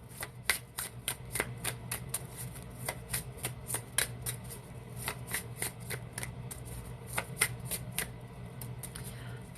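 Oracle cards are shuffled by hand in a quick, steady run of crisp riffling snaps that repeat close to the listener over a low background hum.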